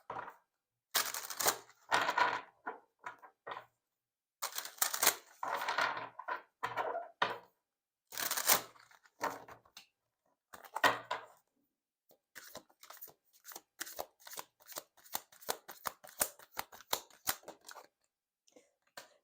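Oracle cards shuffled in repeated riffling bursts, close and fairly quiet, the later strokes quicker and more clipped, with short pauses between.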